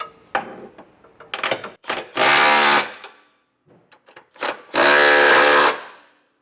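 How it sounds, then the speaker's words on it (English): A power tool with a 19mm socket drives trailer hitch bolts on a 2024 Subaru Crosstrek, starting with short clicking blips and then two long, loud whirring bursts separated by quiet, close up and with no voices. "Now we'll take a 19mm socket and get everything tightened down."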